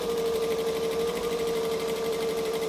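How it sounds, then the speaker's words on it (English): Stitching and back stitching a bag seam, a sewing machine runs in one continuous, steady, close whir with a rapid rhythmic needle chatter and a constant motor tone. "So we're going to stitch and back stitch to lock it in."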